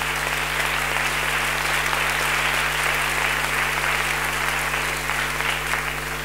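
Steady, dense applause from an audience at the presentation of the 28th Semana de Cine film festival in Medina del Campo, continuous and even throughout with no voices above it.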